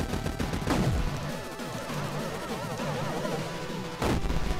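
Gunfire in the side-scrolling game Rex Rocket, mixed into a dense, steady wash of game sound with looping music, with a couple of sharper bursts standing out near the start and again near the end.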